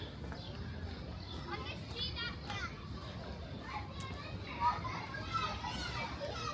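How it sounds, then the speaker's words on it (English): Children yell and play in a city park in Queens, New York, on a partly cloudy day, their voices distant and scattered over steady background ambience, with a few sharper shouts standing out. "So I hear all these kids yelling and stuff."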